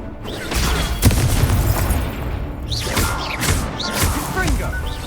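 Incendio fire spell bursting in Hogwarts Legacy, a dense run of booms, whooshes and crashing blasts over sustained game noise, with a voice speaking through much of it.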